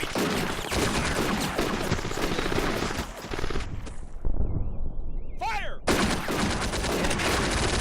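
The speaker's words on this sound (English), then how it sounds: "This guy's firing, concentrated fire." Gunfire in the Combat Mission: Afrika Korps war game, with dense bursts of rifle and machine-gun fire, a brief lull with whistling sounds, then renewed sustained shooting.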